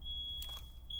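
A smoke alarm sounds indoors as a steady high electronic tone. It cuts out briefly midway under a short burst of noise, then resumes. The tone is fairly faint and distant.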